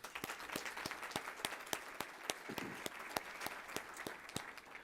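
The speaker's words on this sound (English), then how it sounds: "Give them a round of applause as well." An audience at a Columbus Metropolitan Club forum gives a round of applause, with steady, evenly spread claps heard from a moderate distance and filling the room without any talk.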